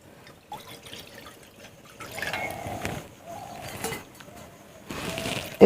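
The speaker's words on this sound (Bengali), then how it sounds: "ওই কড়ার মধ্যে এখন জল দিয়ে দিচ্ছি।" Water poured from a container into a wok on a stove, several short trickling bursts with gaps between them, close and fairly quiet, ending with a brief clunk.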